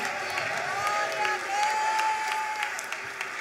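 A church congregation at a worship service breaks into applause, dense clapping with some cheering under a faint sustained tone, steady and fairly loud throughout.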